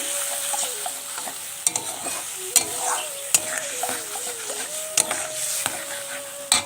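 Tamarind is stirred in a hot pan: a continuous sizzle with repeated sharp spoon scrapes and clicks at an uneven pace, close up and without voices.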